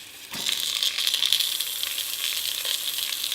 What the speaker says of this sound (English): I'm just going to fry them off just for a little bit.